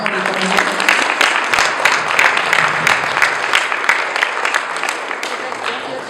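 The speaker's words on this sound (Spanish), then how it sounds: "Pueden celebrar con un aplauso al Señor" A church congregation applauds, with steady, dense clapping from many hands continuing loudly throughout and a few voices mixed in.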